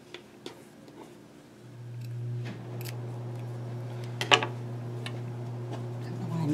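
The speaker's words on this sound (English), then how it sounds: "using my small scissors" Small scissors snip through fabric for a bowl cozy, producing a few quiet, sharp clicks spread irregularly over a steady low hum, close and faint.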